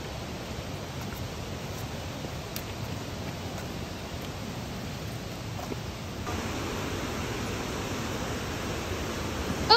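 Waterfalls at Kent Falls State Park rush in a steady broadband roar heard from a distance, growing slightly louder partway through, with no talk.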